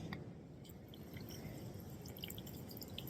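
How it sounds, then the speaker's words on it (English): Water running from a campsite tap into water bottles along a trail, a steady quiet trickle and splash with small drips, heard close and alone. "We're gonna fill our water bottles right here."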